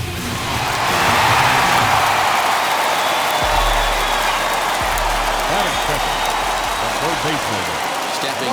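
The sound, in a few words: home crowd cheering after a home run, from a baseball video game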